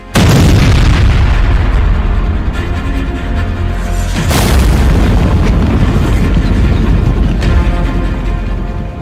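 Explosions, used as a sound effect in a report on the Russia–Ukraine war, boom in a loud continuous roar, with fresh blasts bursting through partway and again near the end. No talk is heard.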